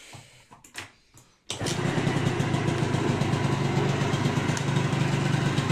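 Engine cranking in a few short bursts, then catching and settling into a loud, steady idle close by, no voices.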